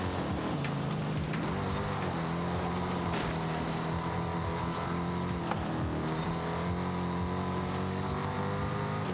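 A throaty V8 car engine in a video game revs up and holds a steady high drone, loud and continuous, with a deep rumbling tone and slight shifts in pitch.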